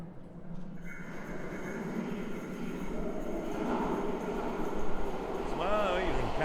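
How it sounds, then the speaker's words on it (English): A train pulls into a station near Canary Wharf in London with a steady rolling rumble that builds, and squealing wheels rise toward the end; a person talks over it. "Here comes the bus, the train."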